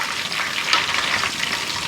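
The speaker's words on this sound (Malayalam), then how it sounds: "അതുകൊണ്ട് ചെറിയ ഇങ്ങനെ എണ്ണയിലിടുമ്പോൾ ഇങ്ങനെ ഒരു ചെറിയ പൊട്ടൽ പോലെ ഇങ്ങനെ കേൾക്കാം." Coated mushroom pieces fry in hot oil for mushroom 65, giving a steady close sizzle filled with dense, fine crackling pops and no talking.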